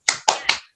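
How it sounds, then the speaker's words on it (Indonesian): Three sharp hand claps land in a quick, even rhythm in a primary school classroom, each ringing briefly before the next, loud and close with no voices over them. "Tepuk semangat"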